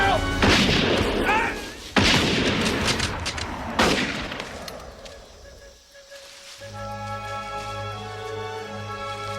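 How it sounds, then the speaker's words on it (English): Bursts of battle gunfire crack and boom through a film combat scene, several loud volleys and rolling blasts in the first half, then a quieter stretch with sustained tones behind. "Keep firing, lads!"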